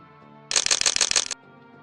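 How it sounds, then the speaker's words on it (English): A camera fires a quick burst of about six crisp shutter clicks while photographing ants for microphotography, close and sharp against a faint, quiet room background. "Maybe I can turn off the shutter sound, because every time..."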